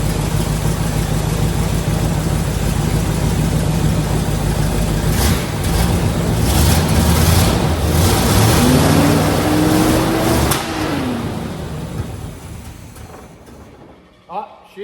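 A 1972 Corvette with a 454 engine runs steadily at a loud, rough idle, then revs up and sags before cutting out near the end, leaving a few faint knocks.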